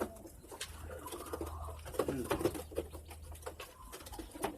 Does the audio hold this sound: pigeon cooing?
yes